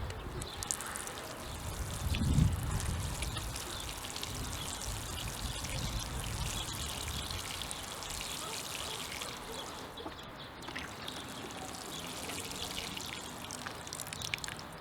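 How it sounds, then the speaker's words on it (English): Water pours steadily and trickles onto the dry soil of a freshly repotted elm pre-bonsai, a continuous soft splashing with a brief heavier gush early on, close by and without talk. "since the soil was pretty dry on this tree, it really needs a good watering"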